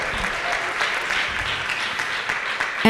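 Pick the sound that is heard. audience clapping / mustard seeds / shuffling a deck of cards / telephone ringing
audience clapping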